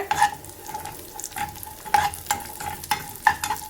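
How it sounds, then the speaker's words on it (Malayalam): Cashews, onions and raisins frying in ghee in a pan, a soft steady sizzle punctuated by sharp spoon taps and clinks against the metal, close up with no talking. "അണ്ടിപ്പരിപ്പും ഉള്ളിയൊക്കെ മൂത്ത് വന്നിട്ടുണ്ട് ഇനി അതിലേക്കൊരു ഒരു പത്ത് കിസ്മിസോളം ഞാൻ ഇട്ട് കൊടുത്തിട്ടുണ്ട്"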